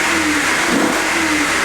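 Audi RS5 engine, damaged and showing engine and airbag faults, revving steadily with a loud, smooth, continuous roar and a slight pitch rise and fall, no talking.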